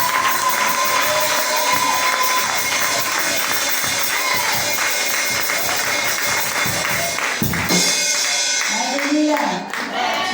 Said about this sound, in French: On va ensemble acclamer très fort la vie de nos mamans.